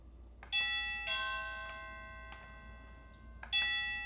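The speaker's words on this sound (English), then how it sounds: "So it lights up and it will do a chime at the same time." A SadoTech wireless doorbell chimes in a quiet room with bright multi-tone dings. Two full chime sequences ring out about three seconds apart, with softer tones and light clicks between them.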